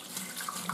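Priming solution pours from a container into a plastic beer fermenting bucket, a steady close splashing stream of liquid running continuously with no talk.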